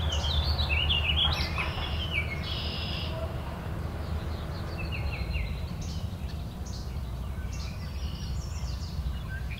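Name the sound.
least flycatcher singing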